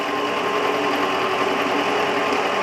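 A milling machine cuts a 10mm (roughly half-inch) metal plate in a motorcycle workshop during a Moto Guzzi California III cafe racer build, giving a steady, loud, continuous whirring drone with a high mechanical whine and no pauses.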